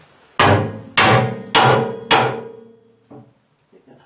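Four sharp hammer blows ring out at an even pace while moving a Harrison M300 lathe, each with a short metallic decay, followed by a few faint softer knocks.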